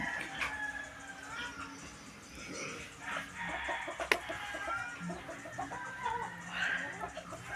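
Chickens cluck intermittently nearby amid outdoor background noise, with a sharp knock partway through, beside a piggery where hollow-block roofing work is underway.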